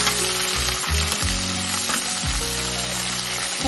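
Garlic and ginger paste sizzles steadily in hot oil while being cooked for homemade sambar, a continuous close frying hiss with no voices.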